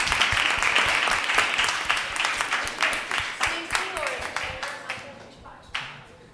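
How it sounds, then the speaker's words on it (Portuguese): An audience at a youth election-participation session at a parliamentary school bursts into sustained applause, many hands clapping at once before it thins out and fades to a few final claps. "Quero uma salva de palmas para ela, por favor."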